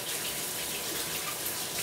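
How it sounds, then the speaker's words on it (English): Tap water runs steadily into a sink as freshly picked wild garlic is rinsed, a continuous close hiss and splash with no talking. "So give those a rinse."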